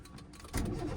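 A manual car's engine cranks and catches after stalling during a beginner's clutch-control driving lesson, with a sudden broadband burst about halfway through settling into a steady, close idle rumble.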